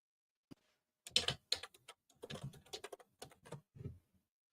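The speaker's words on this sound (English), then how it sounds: "I hear you typing" Bursts of quiet typing on a computer keyboard, irregular clusters of clicks with short pauses, close to the microphone and alone.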